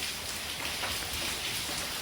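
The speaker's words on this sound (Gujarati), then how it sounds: "વરસાદ પડી રહ્યો છે." Rain falls steadily and densely, a close, even hiss of drops on surfaces with no voices.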